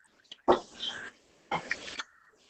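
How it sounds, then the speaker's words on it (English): Two harsh throat-clearing coughs from a person, close and fairly loud, the first around half a second in and a second one a second later, with quiet pauses between. "I'm going to have to cough here for a second."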